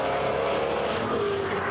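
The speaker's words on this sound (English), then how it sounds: "Goupy overtakes Gonneau under braking on the aerodrome straight" Touring race cars from the NASCAR Euro series roar past while braking to overtake on the Nogaro aerodrome straight, a loud, continuous engine drone with a descending pitch as they slow.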